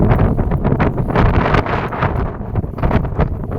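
Strong gusty wind buffets the microphone in loud, rumbling surges that rise and fall throughout, on an open river char where cattle graze, with no other clear sounds.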